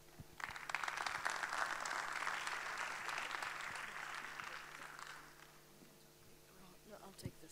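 An audience breaks into sustained applause welcoming scientist Rana Dajani at a conference talk, a dense clapping wash that swells, holds for several seconds, then fades into a quieter room.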